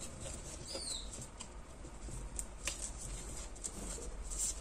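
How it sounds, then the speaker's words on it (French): Paper corners folded with a bone folder for a scrapbook mini album make soft, faint rustles and light scraping taps in a quiet room. "je prends mon plioir et je rabats le petit coin vers l'intérieur"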